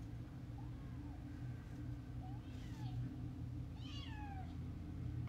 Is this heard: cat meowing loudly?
yes